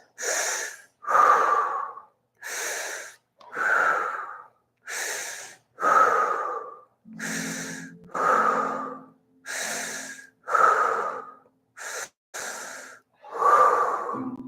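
Deep, rhythmic breaths held through a yoga pose, each inhale and exhale loud, close and slightly wheezy, about a dozen breaths with short pauses between and no talking over them.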